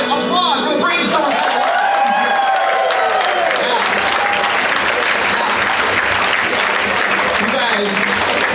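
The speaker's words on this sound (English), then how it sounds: "Applause for the Brainstorm" An audience applauds loudly and continuously at a hypnosis show for Brainstorm employees, with a brief voice at the start.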